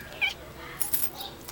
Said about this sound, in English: meowing at me